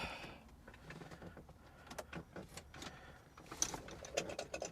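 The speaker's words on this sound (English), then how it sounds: "There's the fuel pump." A vintage Fiat Spider's electric fuel pump runs with a rapid, steady ticking buzz, faint and close, with some light mechanical rattles mixed in.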